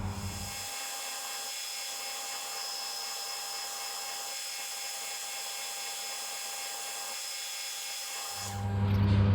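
Power drill boring a countersink into a homemade wooden marking gauge, a steady whining spin held for several seconds at moderate level, with a louder lower surge as it winds down at the end.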